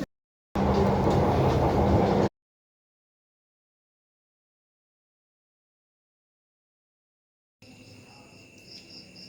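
Palembang LRT light rail train rumbles in a loud, steady burst, then after a long gap returns as quieter carriage noise with faint clatter.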